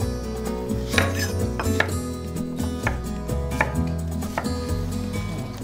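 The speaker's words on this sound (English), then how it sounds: "I'm gonna slice an onion." A knife slices an onion on a cutting board, a series of close, crisp knocks in an uneven rhythm, with light clinks of kitchen utensils and no talking.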